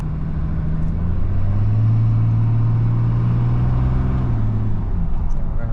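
A 2014-2018 Dodge Ram with a 6.7L diesel engine pulls away and gathers speed toward 30, its low steady engine rumble rising gradually under constant road and tire noise, close and continuous throughout.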